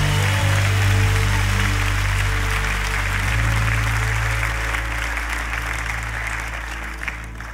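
A church congregation claps hands during worship, a sustained wash of clapping over loud low organ or keyboard tones, gradually fading slightly in volume.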